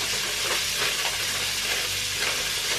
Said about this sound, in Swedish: Så där då har vi brynt alla revben och alla revben ligger i formen